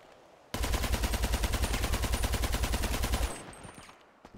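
Rapid automatic gunfire in the video game Survival of the Fittest, a dense, steady stream of close shots lasting about three seconds before cutting off into faint ambience.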